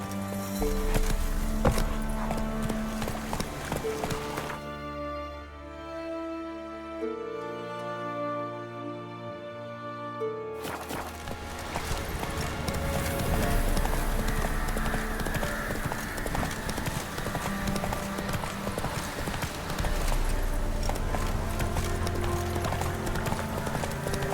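A horse galloping in The Witcher 3, rhythmic hoofbeats drumming steadily under game music, with a short musical break in the middle before the hooves resume.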